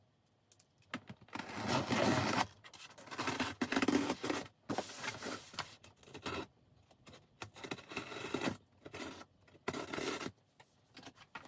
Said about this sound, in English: It doesn't have the pull tabs, so I'm gonna have to use scissors.